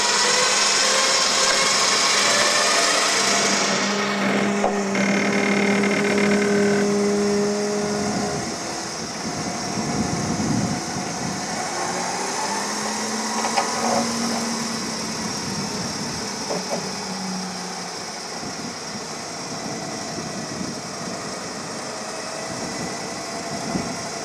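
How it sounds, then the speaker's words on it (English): A winch lowers an off-road vehicle down a very sharp, steep step, a steady mechanical whine and grinding drone running throughout, louder at first and then easing to a lower, continuous hum outdoors. "use the winch to lower the vehicle down this very sharp steep step behind me"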